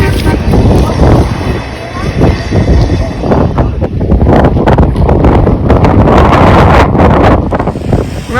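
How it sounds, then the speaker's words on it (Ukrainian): Strong wind in a hotel garden buffets the microphone with loud, rumbling gusts that surge and ease, while a voice talks faintly underneath. "Дуже сильно вітряно сьогодні в городі."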